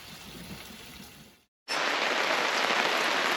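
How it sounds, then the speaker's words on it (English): Heavy rain pounds down at a campsite in the Drakensberg, a steady dense hiss that drops out briefly for a moment and then returns louder and fuller, close by and without any talk. "It's raining again. It's coming down quite hard now."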